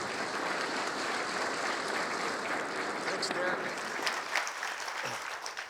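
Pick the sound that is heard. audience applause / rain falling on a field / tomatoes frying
audience applause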